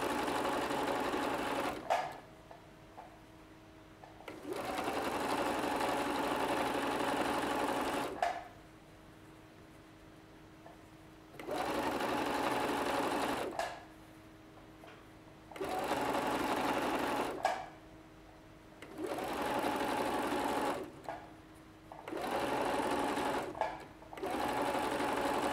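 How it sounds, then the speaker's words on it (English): A sewing machine whirs in repeated bursts of rapid decorative stitching on a handmade toy, each lasting a few seconds, separated by short quiet pauses. "if you've got a decorative stitch from your sewing machine to finish this off"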